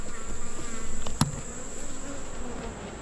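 Honeybees trapped inside a mite wash container buzz in a steady, close drone that pulses and wavers, with a single sharp knock partway through and no voices.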